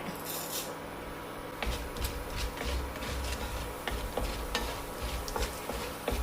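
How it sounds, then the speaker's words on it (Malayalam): Urad dal frying in oil in a pan over a low to medium flame, a steady sizzle broken by repeated scraping and stirring knocks from a spoon, close and fairly loud throughout. "ഉഴുന്ന പരിപ്പം ആവശ്യത്തിന് മൂത്തിട്ടുണ്ട്"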